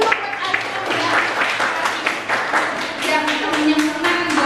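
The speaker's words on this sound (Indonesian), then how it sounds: "Tepuk tangan dulu buat Aryo, ya." Classmates in a classroom clap in a steady, dense patter of applause through the whole stretch, fairly close and moderately loud, with no talk over it.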